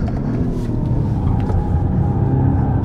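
A 2022 BMW 235i Gran Coupe with all-wheel drive runs under hard acceleration, a loud, dense, low engine rumble heard from inside the cabin, steady throughout.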